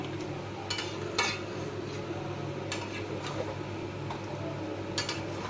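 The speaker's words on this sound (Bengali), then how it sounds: "এই যে এটা হোক, একটু নাড়ি আস্তে আস্তে।" Chicken and potatoes being stirred in an oily pan, a soft continuous sizzle broken by several scraping strokes and light clinks of a utensil, close and fairly quiet.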